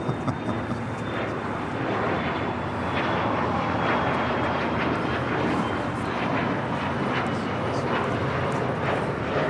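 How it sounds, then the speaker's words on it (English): A KLM Boeing 787 Dreamliner from Amsterdam lands on runway 25 left at LAX, giving a steady, fairly loud engine roar that holds through the whole stretch with broadband noise. "That is the KLM Dreamliner coming in from Amsterdam, flight 601, touching down on 25 left."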